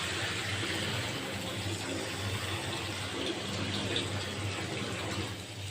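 Water gushes steadily into a pan of rohu fish curry with eggplant and potato, a continuous close, even pouring rush lasting several seconds.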